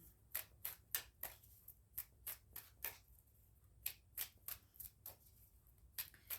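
Tarot cards are shuffled and handled close by, a quiet run of sharp, papery riffle snaps coming in quick irregular bursts, about a dozen and a half in all, over near silence with no voices.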